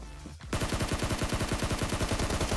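Automatic gunfire in the PUBG Mobile video game: after a brief quiet start, a loud, rapid, steady burst of shots runs without a break to the end.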